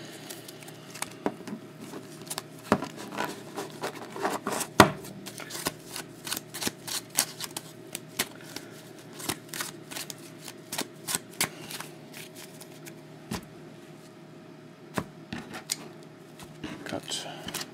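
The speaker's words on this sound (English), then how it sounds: "So make sure they shuffled real well." Hockey trading cards being shuffled by hand, a long series of quick papery riffles and snaps at uneven intervals, close and fairly quiet.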